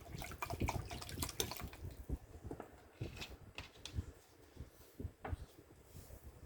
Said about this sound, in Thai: ใส่น้ำเข้าไปครับ ต้องใส่หลายครับน้ำ